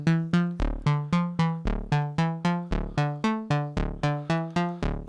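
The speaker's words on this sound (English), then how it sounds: "I'm going to play the sequence again" A Korg Volca Keys synthesizer plays back a recorded sequence of short plucky notes in an even, quick rhythm, each note decaying sharply before the next, with no talking over it.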